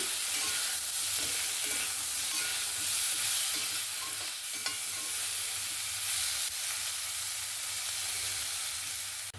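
Vegetables with turmeric and chilli being stirred in a hot pan, a continuous bright sizzle with soft scraping strokes, close and steady throughout, no voices.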